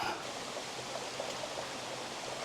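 Waterfall at the end of a hiking trail, heard as a steady, dense broadband roar of rushing water that stays even and continuous throughout, with no voices over it.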